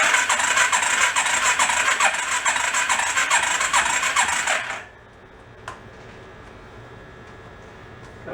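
Rat rod quad engine cranking over without starting, a loud rapid rhythmic churning for about five seconds that then cuts off abruptly to near silence with a faint click.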